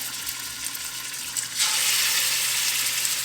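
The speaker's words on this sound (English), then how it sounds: "So we begin the process with browning our pork." Seasoned pork pieces land in hot oil in a pan, a quiet crackle abruptly swelling into a loud, steady sizzle that holds to the end.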